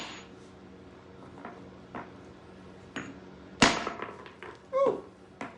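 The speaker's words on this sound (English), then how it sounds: "I'm going to give it a couple whacks" A hammer and wedge strike a tough geode, a few sharp metallic knocks spaced apart over a quiet room, the loudest hit near the middle followed by a ringing ping.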